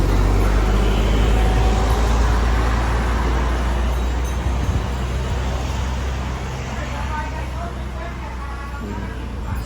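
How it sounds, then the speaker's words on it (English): Cars and buses passing along a busy road beside a Thai seafood market, a loud, continuous traffic rumble with engine drone and general crowd hubbub fading slightly toward the end. "That's where the cars go, the buses."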